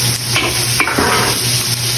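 Liver fries in a pan with a steady loud sizzle while a utensil stirs and scrapes the pan in a few short strokes.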